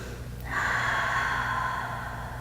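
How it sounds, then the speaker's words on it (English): A big breath pushed out through the mouth during a power yoga flow, one long breathy exhale rising quickly and holding steady, close and clear with no talking. "Nice big exhale out through the mouth."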